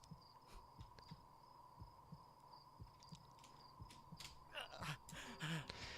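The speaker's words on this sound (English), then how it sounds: "I have to listen to this guy moan and his heartbeat this entire time" A slow, steady heartbeat of a suffering character in the horror game Cry of Fear thumps softly under a low hum, with a groaning, moaning voice rising over it in the last couple of seconds.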